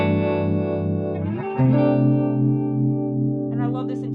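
Electric guitar through a harmonic tremolo pedal, sustained chords pulsing and shifting with a throbbing modulated shimmer, then a brighter change near the end; close and fairly loud, with no talking.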